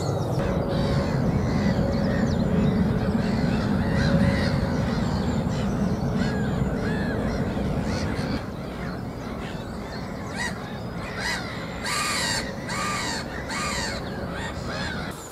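Large birds on the Bulrush Trail near Ely give harsh, repeated honking and cawing calls, a busy overlapping chorus that stays fairly loud throughout with rough wind-like noise underneath.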